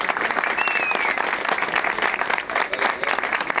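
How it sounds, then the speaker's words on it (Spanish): Applause at the ACP 2015 rally championship award ceremony, a loud, full burst of crowd clapping that carries steadily from start to finish. "¡Fuerte el aplauso para ellos!"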